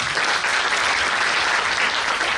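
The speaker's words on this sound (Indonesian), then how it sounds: "Sekali lagi aplaus untuk Kangen Water." An indoor audience at an educational event claps steadily and loudly, a dense, even wash of applause with no break throughout.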